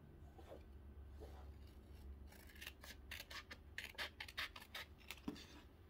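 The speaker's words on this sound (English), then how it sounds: "So you will first want to cut off the flap with your scissor." Scissors cutting the flap off a red paper envelope: a quiet room, then a close run of crisp snips and paper rustles in quick irregular rhythm, faint and without speech.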